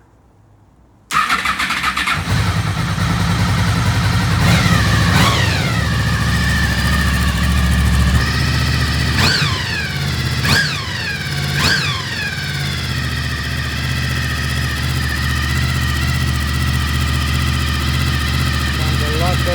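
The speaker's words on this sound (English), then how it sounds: "Have to watch the idling, turn it down here if it's too much." A Honda VFR800fi motorcycle engine starts up and settles into a steady, loud idle, with a few sharp revs blipping the throttle before it evens out.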